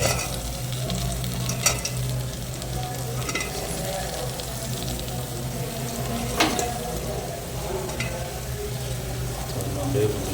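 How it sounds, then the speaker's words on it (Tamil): Bitter gourd, cauliflower, cabbage and okra frying together for a gravy, a constant sizzle with repeated spatula scrapes and clinks against the pan as the vegetables are stirred. "அப்படியே மிக்ஸ் பண்ணிடலாம்."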